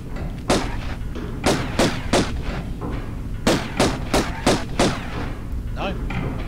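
In the Tomb Raider video game, about nine or ten sharp gunshots go off in two quick bursts over a steady background. The loud cracks sound close.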